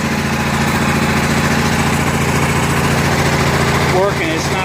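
A Kohler 7000 watt generator in a bus runs after a carburetor adjustment, a loud, steady engine hum with an even throbbing drone and a voice briefly heard near the end.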